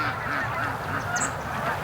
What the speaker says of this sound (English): And I hear Canada geese.